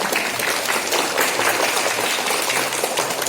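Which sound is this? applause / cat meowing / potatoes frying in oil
applause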